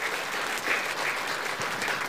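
Church congregation applauding during a sermon on praying with faith, a steady dense wash of many hands clapping together, sustained and moderately loud throughout with no voices over it.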